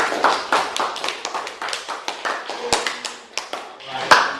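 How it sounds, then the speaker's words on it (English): A small group, likely a classroom, claps for a student in a brief round of scattered, uneven hand claps, fairly close and dense at first, thinning toward the end with a few last sharp claps. "Let's give him a big round of applause"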